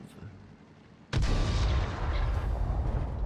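An M44 artillery gun fires a shell in World of Tanks, one sudden loud boom after a quieter stretch, followed by a long rumbling tail.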